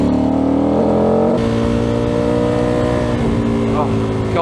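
A motorcycle in fourth gear pulls hard uphill to overtake, its engine droning loud and close with a rising pitch and a gear change partway through.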